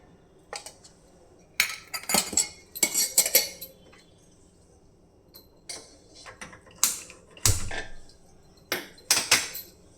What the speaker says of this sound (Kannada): ಈಗ ನೆಕ್ಸ್ಟು ಮೆಣಸಿಕಾಯಿನ ಹುರ್ಕೊಳ್ತಾ ಇದ್ದೀನಿ ಇದಕ್ಕೊಂದು ಸ್ವಲ್ಪ ಆಯಿಲ್ ಹಾಕ್ಕೊಳ್ತೀನಿ